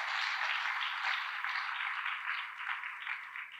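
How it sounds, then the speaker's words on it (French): Steady applause fills an assembly hall as an audience claps for brothers and sisters of the congregation, a dense even patter with no talk over it. "On va applaudir ces frères et sœurs, s'il vous plaît."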